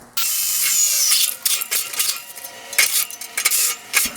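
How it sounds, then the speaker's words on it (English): Step bit drilling holes through a broken metal frame during a welding repair, a sharp whining bite at the start followed by uneven grinding bursts and scraping clatters, close and loud with no talk. "So I'm just going to use a step bit, drill it down through, and do both sides"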